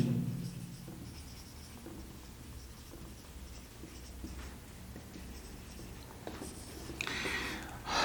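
Marker or chalk writing on a board during an electrical engineering lecture, soft scratchy strokes in short bursts up close, with a louder squeaky stretch near the end.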